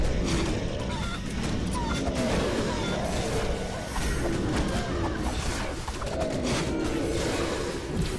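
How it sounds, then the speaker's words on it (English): In the Guacamelee video game, a chicken clucks and squawks repeatedly over a dense, busy game mix with steady noise and thumps throughout. "Like, why is there a chicken attacking the wall?"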